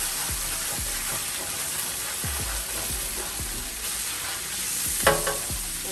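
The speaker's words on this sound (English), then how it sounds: "I am going to take a spoon, scrape as much as I can" A spoon scrapes pork chop drippings around a frying pan for smothered pork chops: a steady loud sizzle with repeated low scraping strokes and a brief clatter near the end.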